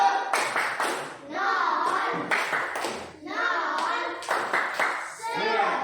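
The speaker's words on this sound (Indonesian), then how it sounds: "Kita tepuk 100 untuk kelompok 2 dulu." A school class claps the rhythmic 'tepuk 100' pattern in repeated bursts of sharp handclaps, with children's and an adult's voices chanting and speaking throughout.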